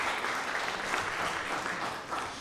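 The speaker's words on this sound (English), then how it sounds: "Yes, it's worth a clap." An audience at an art exhibition opening claps steadily in a dense, even round of applause that fills the room and eases slightly near the end.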